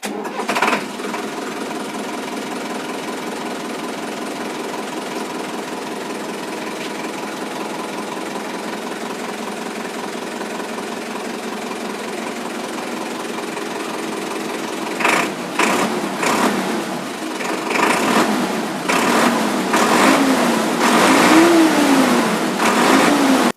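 Tractor engine idling with a steady chugging drone, close and loud, then revving up in several surges toward the end.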